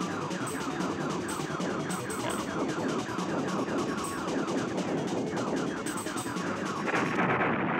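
Rapid, repeated shots fired from a ship in the video game Star Fox, crackling in a steady burst over busy, dense game sound, loud and close with no talk.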